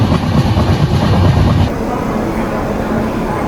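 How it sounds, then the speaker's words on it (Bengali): Saraighat Express train pulling into Guwahati railway station, with steady loud rumbling and rolling wheel noise that eases slightly partway through. "আমাদের ট্রেন এই মুহূর্তে পৌঁছে গেছে গুয়াহাটি রেলওয়ে স্টেশনে"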